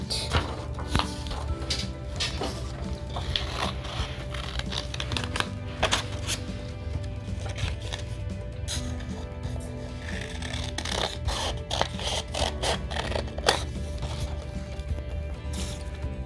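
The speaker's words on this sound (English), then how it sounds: "let's take our scissors and cut our circle out." Scissors snip a circle out of paper in a long series of quick, crisp cuts, with rustling and handling sounds close by and no voices.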